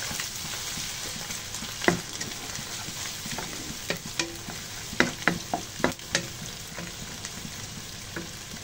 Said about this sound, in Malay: Tumis sehingga layu.